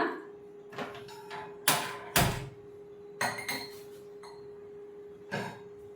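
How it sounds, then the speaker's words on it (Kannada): A metal kadai pan is set down on a kitchen stove with several sharp clanks and knocks spread across a quiet room, a steady low hum running underneath. "ಕಡಾಯಿ ಇಟ್ಟು ಸ್ಟವ್ ಆನ್ ಮಾಡ್ಕೊಳ್ಳೋಣ"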